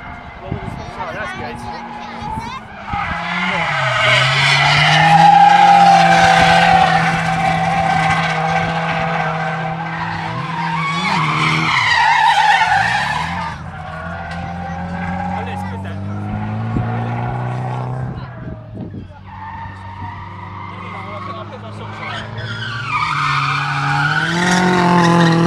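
A Ford Sierra RS500 race car skids and spins out, its engine droning with long, loud tyre squeals that rise and fall, heard from a distance while people talk over the noise.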